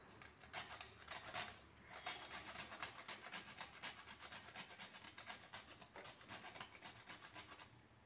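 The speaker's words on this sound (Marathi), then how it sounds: "त्यामध्ये थोडं मी जायफळ घालते आता किसून" Whole nutmeg is grated by hand over melted jaggery, making quiet, rhythmic rasping strokes that repeat evenly and close up throughout.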